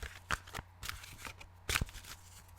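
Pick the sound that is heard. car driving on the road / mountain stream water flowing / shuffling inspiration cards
shuffling inspiration cards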